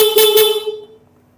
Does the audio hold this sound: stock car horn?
yes